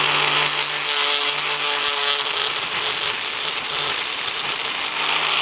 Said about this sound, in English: Just take it and sand that bump away.